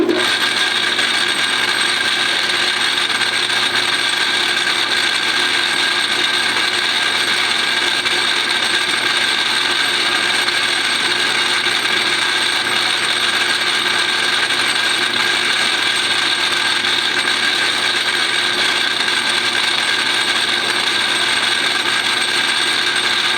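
A metal lathe turns brass for a shotgun repair while the cut is fed by hand, giving a loud, continuous, even mechanical whirring drone that holds steady throughout with no pauses.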